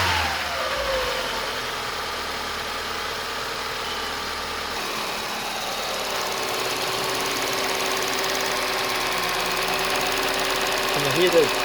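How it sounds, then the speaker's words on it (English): A small car's engine idles steadily close by with a fine, rapid ticking from the fuel injectors riding over a continuous mechanical hum, loud and even throughout. "And I hear the injectors tapping."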